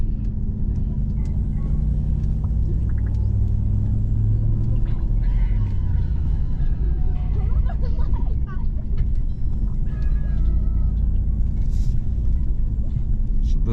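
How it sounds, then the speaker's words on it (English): A 2021 Ram TRX pickup climbs an off-road hill, its engine a loud, continuous low rumble from inside the cab, with faint voices now and then beneath it. "So this is my first time going off-road in the truck"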